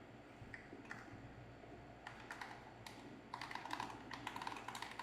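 Fingers tap out bursts of typing on a computer keyboard, quiet clicky keystrokes in short irregular clusters that grow busier toward the end, with no voices present.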